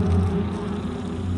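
Imported honeybees buzz in Japan, a steady low drone holding close and continuous throughout with no other sounds.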